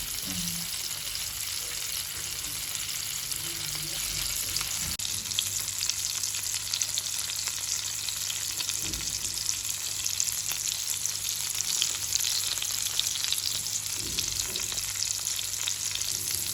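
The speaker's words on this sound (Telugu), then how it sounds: "చికెన్ కబాబ్స్ ఎక్కువ ఆయిల్ డీప్ ఫ్రైలో కన్నా ఇట్లా తక్కువ ఆయిల్ పోసుకొని ఇట్లా ఫ్రై చేసుకుంటే బాగుంటుంది" Chicken kebabs shallow-fry in a little oil, a continuous close sizzle and crackle with occasional soft stirring sounds.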